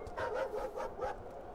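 A dog in a video game lets out several short, fairly faint barks in quick succession, each a brief yappy burst over a low background.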